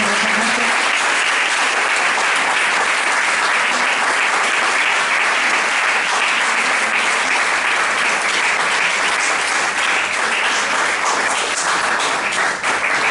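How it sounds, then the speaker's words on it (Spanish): A large audience applauds loudly and continuously, the dense clapping sustained without a break. "un aplauso por favor para Elena."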